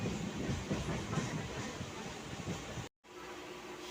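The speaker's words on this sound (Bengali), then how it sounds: "শিয়ালদা থেকে এসে এবার ট্রেনটা বিধাননগর স্টেশন ছাড়ছে।" A local train leaving Bidhannagar station after coming from Sealdah, heard from inside the carriage as a steady rumble with clattering wheels and hiss, briefly cut out near the end.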